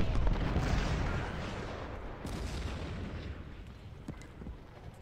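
Booming cannon fire from 4-inch siege guns in the Civil War strategy game Ultimate General Civil War, a dense, continuous rumble of blasts with no voices, loud at the start and gradually easing off.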